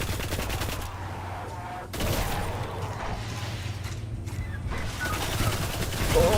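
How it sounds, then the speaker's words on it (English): Video game gunfire in Destiny, a steady stream of rapid shots with a persistent low hum, fairly loud and continuous with only a brief lull. "Now let me shoot you all."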